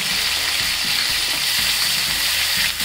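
Grated ginger hits hot oil with fenugreek seeds for Punjabi kadhi pakora, a loud continuous sizzle and frying hiss that holds steady throughout.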